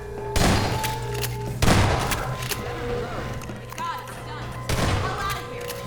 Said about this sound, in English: Time to shotgun it.